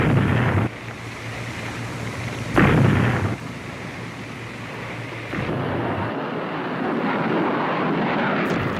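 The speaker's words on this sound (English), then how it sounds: "U.S. aircraft and warships continued to attack transportation targets" U.S. military aircraft attack during the Vietnam War, a continuous heavy engine roar with surging swells and a brief louder burst, sustained and fairly close throughout.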